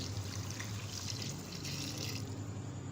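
About a litre of water poured steadily into a pressure cooker holding mutton, spices, garlic and tomatoes, a continuous close splashing gush for a few seconds with no talking.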